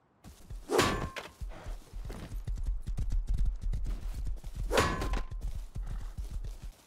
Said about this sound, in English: Oh look, my horse is here.